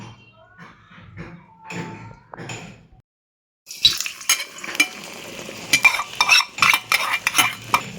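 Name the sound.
beaten eggs poured into hot oil in a pan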